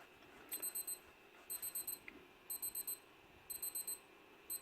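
An electronic alarm clock beeps in quick bursts of four, repeating at a steady pace over a quiet background.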